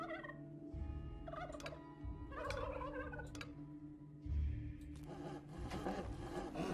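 Turkeys gobbling in the video game Dungeons 3, several rapid warbling gobble bursts in succession followed by a rougher, noisier burst, moderately near and clear with no talking.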